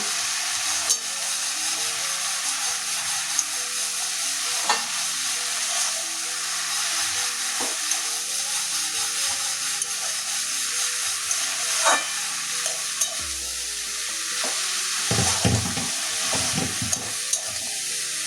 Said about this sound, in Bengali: এবারে ধুয়ে রাখা লাউটা দিয়ে দিচ্ছি।